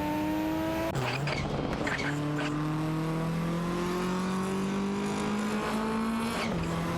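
Nissan Skyline GTR R33 and Porsche 944 Turbo S racing in a video game, engines roaring loudly and steadily with rising pitch sweeps as they accelerate and shift, a sharp gear change near the start.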